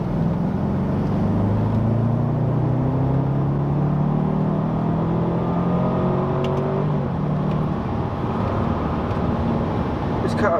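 A BMW 650i engine on the Nürburgring Nordschleife climbs steadily up the revs, its loud, droning tone rising in pitch, heard from inside the car and sustained throughout.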